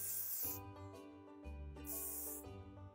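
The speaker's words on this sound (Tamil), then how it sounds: "நான் யூஸ் பண்ணுற ஹேர் ஸ்ப்ரே வந்து வெல்லா ப்ரொஃபஷ்னல்ஸோட மிஸ்டிஃபை மீ ஸ்ட்ராங்" Short bursts of Wella Professionals Mistify Me Strong hair spray being misted onto hair, two or three soft hissing puffs separated by brief pauses, close and quiet with no talking.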